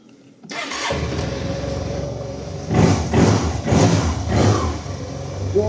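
A 2007 Yamaha T-Max 500 scooter with 34,000 km, in excellent condition, cranks and fires up, settles into a steady idle, then gives a few short throttle blips close by.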